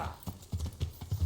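Horse hooves clip-clop in Kingdom Come: Deliverance, a steady run of about seven loud, close hoofbeats at a brisk pace.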